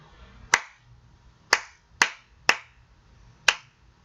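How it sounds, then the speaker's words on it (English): Five sharp hand claps land in a clear, uneven rhythm during a music rhythm lesson, each crisp and close in a quiet room with no talking between them. "So now we're going to clap it."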